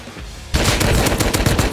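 Video game gunfire erupts half a second in: rapid, dense overlapping bursts of shots, loud and close, continuing nonstop to the end with no talking.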